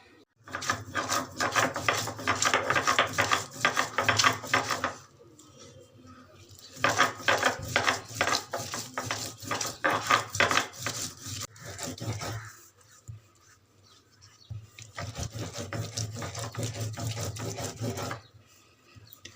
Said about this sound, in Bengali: আর আমি এটা বেটে নিচ্ছি, এগুলো সমস্ত দিয়ে বেটে নেব।